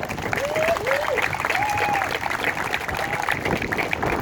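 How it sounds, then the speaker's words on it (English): Crowd claps steadily in a continuous round of applause for a coach, with a few faint voices and whistles above the clapping. "Let's give him a round of applause."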